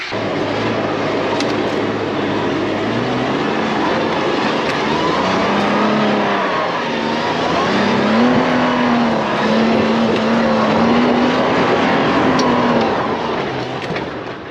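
A vehicle with its tyres let down climbs a steep, dry, loose and dusty track at Black Duck Valley, its engine droning loud and steady and rising in pitch as it works its way up the slope.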